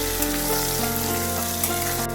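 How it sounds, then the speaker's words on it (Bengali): Chopped onions fry in hot oil already holding bay leaves, whole garam masala and dried red chillies for a Dak Bungalow chicken curry, giving a steady dense sizzle, close and continuous. "এবার পেঁয়াজ কুচি দিয়ে আমি ভাজবো।"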